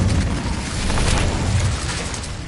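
Incendio fire spell cast in Hogwarts Legacy on PS5, a dense roaring, crackling burst of flame that holds steady and loud for its whole length, with a low rumbling body and no voice over it.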